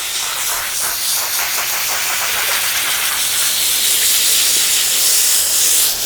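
A garden hose sprays water at pressure while rinsing a horse's coat, producing a loud, continuous broadband hiss that holds steady throughout with no talking.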